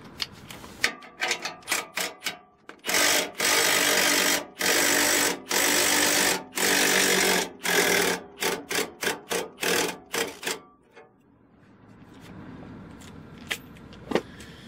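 Makita 3/8-inch cordless impact wrench running with a socket fitted, firing in loud rapid hammering bursts of varying length, several short blips then longer sustained rattling runs, before fading to quiet background.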